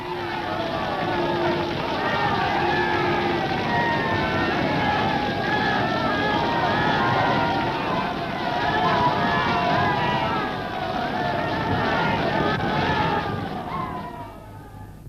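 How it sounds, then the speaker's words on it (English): A large crowd of football spectators at a Sunderland match, a dense murmur of many distant voices and movement held at a steady level, with a voice talking over it. "Quite a crowd, isn't it?"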